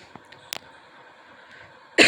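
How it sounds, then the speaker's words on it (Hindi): A dry, hacking cough from someone who is ill bursts out loudly and briefly at the very end, after faint scattered clicks and quiet room noise. "भयंकर खांसी आ रही है, सूखी खस खस खस"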